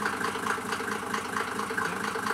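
A Mercedes 208 van with an OM603 diesel engine and two exhausts runs at a steady, even idle, with a continuous low rumble close by.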